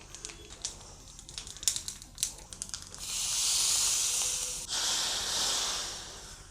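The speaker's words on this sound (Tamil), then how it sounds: "கடுகு வெடிக்கிறது" Mustard seeds crackle and pop in hot ghee. Irregular close popping comes first, then a loud sustained sizzling hiss that dips briefly and then swells again. No one speaks.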